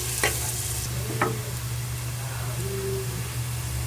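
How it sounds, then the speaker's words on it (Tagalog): Onion and ginger sautéed in oil in a pan, a soft steady sizzle with a couple of brief utensil scrapes, heard under a constant low hum. "Tapos, gigisahin natin siyang mabuti."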